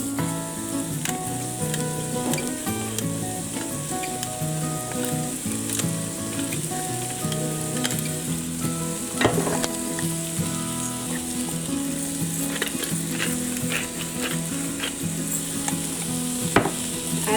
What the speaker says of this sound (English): So I added in all the veggies into that oil, the olive oil, and it's just going to saute for a little bit.